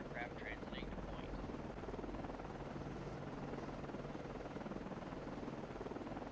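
A helicopter flies in the submarine video game Cold Waters, giving a steady rotor drone that holds at the same level throughout, with a few brief higher electronic tones near the start and no talking.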